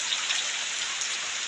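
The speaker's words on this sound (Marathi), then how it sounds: "बारीक बारीक आता पाऊस सुद्धा पडायला सुरुवात झाली" Light first rain of the season falls in the Konkan countryside, a steady fine hiss of drops on the ground with no other sounds.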